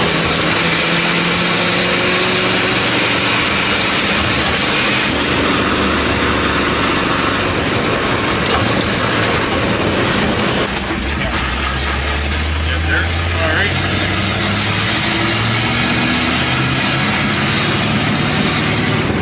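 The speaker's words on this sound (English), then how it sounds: "you're really revving it up here for a V8" A V8 car engine cruising at highway speed, around 3,500 RPM at 60 mph, with a steady loud drone and road noise throughout and a deeper low rumble rising in the second half.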